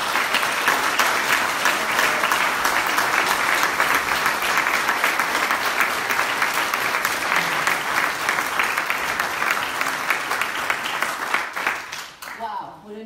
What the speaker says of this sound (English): now, I think, is a good time to give them some applause.